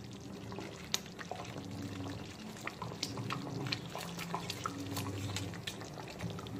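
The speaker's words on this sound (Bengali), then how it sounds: "এখন আমি ভেজে রাখা চিংড়িগুলোকে ঝোলের মধ্যে দিয়ে দেব।" Fried prawns go into a simmering potato gravy with soft bubbling, dripping and a few light clinks, quiet and close.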